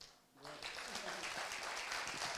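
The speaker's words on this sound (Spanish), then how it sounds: "Un aplauso." Audience applause during a Spanish-language sermon on faith, many hands clapping in a steady, moderately loud wash that rises after a brief spoken lead-in and continues to the end.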